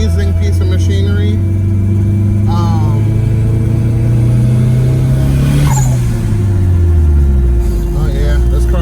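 A car engine revs up and down, loud and close, with a steady rumbling drone and one rising and falling sweep, while a person talks over it.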